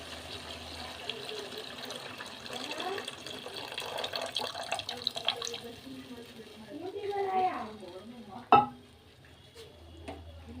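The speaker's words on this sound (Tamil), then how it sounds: "அந்த புளி தண்ணியை இதிலே ஊற்றி பாவக்காவை வேக வைக்கலாம்." Tamarind water is poured into a bitter gourd gravy cooking in a pan as a soft, steady trickle under a person talking, ending with a sharp clank.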